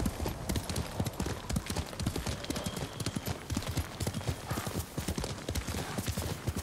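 A horse's hooves clip-clop in a steady trotting rhythm in Ghost of Tsushima, close and distinct, with faint game ambience behind the footfalls.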